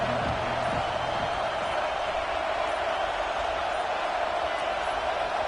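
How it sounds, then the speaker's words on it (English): Crowd at a college football game between Notre Dame and Texas A&M roars steadily in a packed, rocking stadium, a dense continuous wash of noise with no breaks, loud and unbroken throughout. "This crowd ready to make its presence known."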